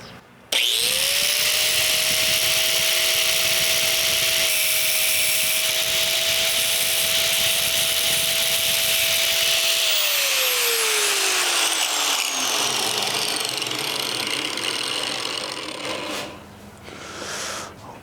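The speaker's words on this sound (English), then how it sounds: "I went ahead and I cut 3 pieces of TIG rod" Cutoff wheel spinning up and slicing through TIG rod, a loud sustained high whine with gritty grinding that holds steady, then the motor winds down with a falling tone.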